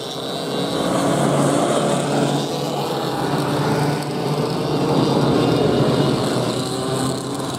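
Standard race cars circle Maryborough Speedway on sighting laps, a loud, continuous roar of several engines with steady rising and falling intensity throughout.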